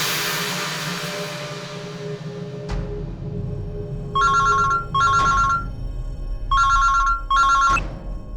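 A telephone rings in a Hindi-dubbed South Indian action film: two pairs of sharp, loud electronic ring bursts cut through a quieter background after a fading musical sting.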